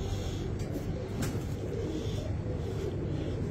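High flyer pigeons coo steadily at close range, a low continuous burble filling the background with no talking over it.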